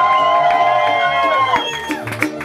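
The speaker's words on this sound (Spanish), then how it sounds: "Quiero que todos los que quieren a Maritza me regalen una bulla." A crowd at a mariachi birthday party for Maritza cheers and shouts loudly, with whoops and raised voices close by and a sustained ringing tone fading under the noise.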